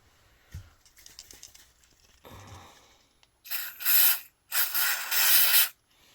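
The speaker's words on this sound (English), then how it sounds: "contact cleaner through and through to remove all the gunks." Two loud close bursts of contact cleaner spray hiss onto a Mini 4WD motor, each lasting about a second, after a few faint handling clicks and rustles.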